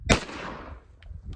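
A single sharp M1 carbine rifle shot in .30 carbine, fired outdoors at a buffalo target, with a loud crack followed by a long decaying echo and a faint distant ping about a second later.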